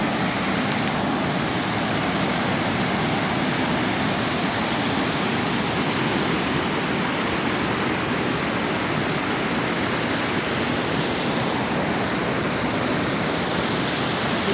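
The overflowing Parramatta River at the Quay walkway bridge in Sydney, swollen by rain, gives a loud, unbroken roar of rushing floodwater, steady and close for the whole stretch with no voices.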